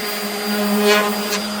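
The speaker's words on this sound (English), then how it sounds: "just sanding like this with the palm sander" A palm sander runs on a wood panel, a steady, loud electric motor whine with a constant hum.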